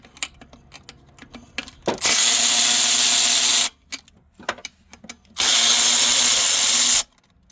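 Power tool loosening the throttle body bolts on a 2003-08 Nissan Maxima: two loud, sustained high-pitched whirring bursts of about two seconds each, separated by clicks and small handling noises, close up.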